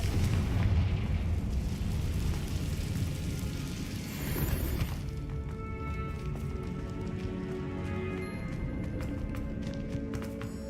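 A Confringo fire spell explodes in the Hogwarts Legacy video game inside an abandoned cave, giving a loud rumbling blast over the first few seconds that then drops to a quieter rattling, debris-like tail.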